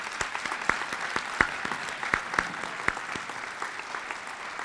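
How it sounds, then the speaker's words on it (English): Audience at a youth recognition awards ceremony clapping for award recipients, a sparse, moderately quiet round of applause with distinct individual claps standing out sharply against the softer background patter. "Let's give them another round of applause."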